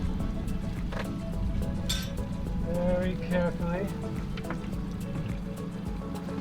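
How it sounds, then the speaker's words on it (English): A water profiler probe slides into river water, giving gurgling, trickling and dripping sounds close by while a person talks throughout. "I'm going to slide this into the water"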